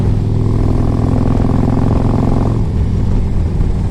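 A 2005 Harley-Davidson Electra Glide Classic 1550 with a big bore kit cruising at 60 mph, just over 2,000 RPM: a steady, loud, low engine drone mixed with wind rush, with no talking.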